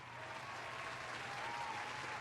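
Steady, even applause from a live audience at a comedy-style storytelling show, continuous and moderately distant, with no talk over it.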